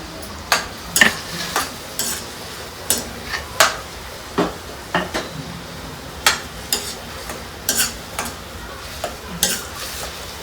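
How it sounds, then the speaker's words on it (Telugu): Village-style fish curry sizzles in a pan, with a steady low fry under repeated sharp scraping and clinking strokes of a spoon stirring at an irregular, brisk rhythm close up. "బాగా వేగాలండి."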